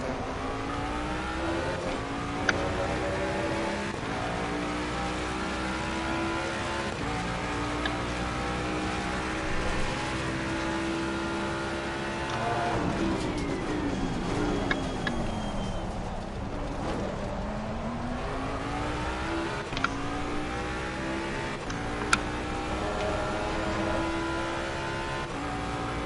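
A GT3 Mustang race car in a racing video game, its engine roaring steadily through gear changes, revving up and down as it drives around the circuit at COTA, continuous and close with no talking.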